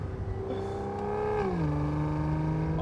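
Aston Martin DB9 V12 engine running smoothly at a steady, fairly loud drone heard from inside the car, its pitch rising and then dropping midway as the revs change, alone without talk.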